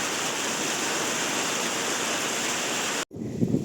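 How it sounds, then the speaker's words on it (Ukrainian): Heavy rain pours in a dense, constant hiss, close and loud, then cuts off abruptly before a few muffled knocks. "страшно дощ іде"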